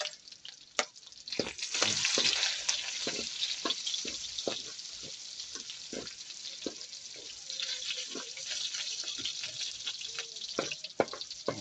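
Pork sautéing in a pan with garlic and onion, a steady sizzle broken by repeated scraping and stirring clicks from a utensil, close and fairly loud throughout.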